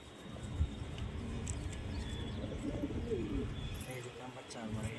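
White pigeons coo softly at home amid a steady low background rumble, their murmuring calls faint and intermittent while people talk nearby.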